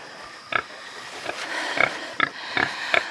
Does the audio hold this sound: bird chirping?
no